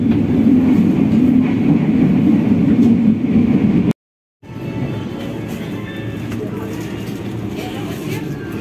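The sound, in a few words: Ranggajati train arriving at Purwokerto station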